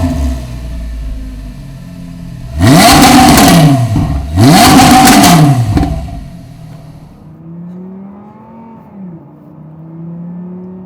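An Audi R8 pulls away and accelerates hard, two loud rising revs, each swelling and then cutting as gears shift, close by, before the engine settles to a lower, steadier drone.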